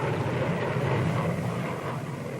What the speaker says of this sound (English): Bombers and artillery support were called in to hit NVA strongpoints.